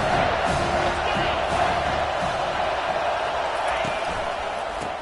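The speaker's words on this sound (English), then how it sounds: "This crowd knows when to bring it." A football stadium crowd roars in a dense, continuous wall of cheering and shouting, loud and sustained throughout with no letup.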